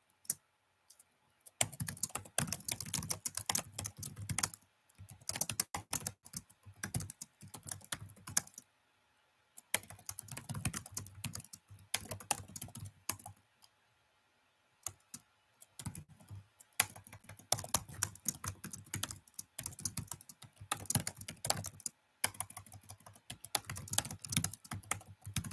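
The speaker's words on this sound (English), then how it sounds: "that typing sound" A computer keyboard clatters in quick, close bursts of keystrokes separated by short silent pauses, steady typing with no voices.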